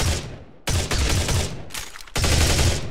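A sci-fi weapon in the VR hero shooter Shadowcore lets off three heavy secondary-fire blasts, each a loud, close boom that decays over about half a second, with no talking.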